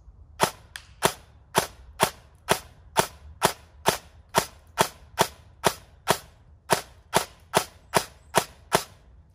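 KWA BLR airsoft rifle firing on semi-auto with 0.28 g BBs, about nineteen sharp snapping shots in a steady, evenly paced rhythm, each crisp and close with short gaps of quiet between.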